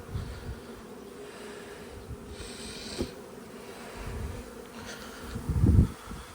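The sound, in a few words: honeybees buzzing around hive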